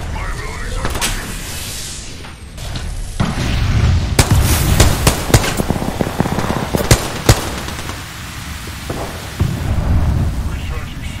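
Gunfire in the shooter game Apex Legends, with sharp shots and bursts cracking over a rumbling, noisy game mix and some muffled in-game voice.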